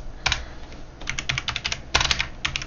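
Close keyboard typing on a computer during a coding session, with clusters of quick clicking keystrokes in two bursts separated by a short pause, and no talk.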